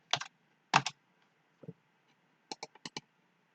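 Several short bursts of typing on a computer keyboard as a file name is entered, quick clustered key clicks with pauses between, close and clear in an otherwise quiet room.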